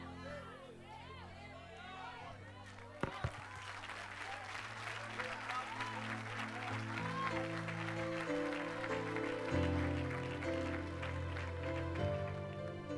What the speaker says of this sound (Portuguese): Foi lindo ver você aplaudir